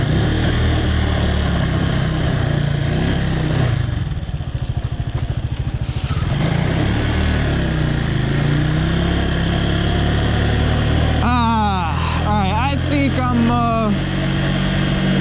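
Motorcycle cruising along at night, its engine holding a steady, close drone throughout, with brief voice-like chirps surfacing near the end.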